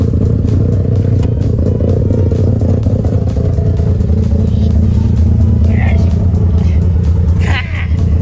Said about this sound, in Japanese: だからエンジンがかかったよ